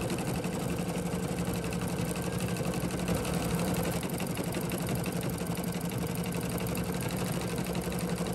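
Embroidery machine stitching a personalized name onto a Minnie Mouse apple luggage tag, a steady close mechanical whir with fast repetitive needle chatter running without pause.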